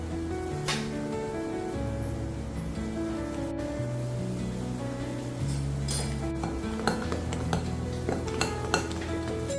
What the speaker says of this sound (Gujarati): હવે આપણે ફટાફટ મિક્સ કરીને એક જ ડાયરેક્શનમાં મિક્સ કરવાનું છે.